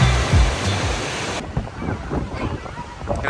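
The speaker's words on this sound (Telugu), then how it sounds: "ఇటు సైడ్ నుంచి వాటర్ వస్తున్నాయి" Water rushing at Balmuri Falls makes a steady, broad roar that fills the whole stretch, with wind buffeting the microphone near the start.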